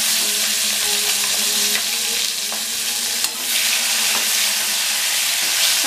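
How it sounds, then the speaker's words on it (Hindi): Eggs and tomatoes fry in oil for a mustard egg curry, giving a loud, constant sizzle with occasional stirring clicks and scrapes from a utensil in the pan. "टमाटर के साथ इसको थोड़ा फ्राई करेंगे"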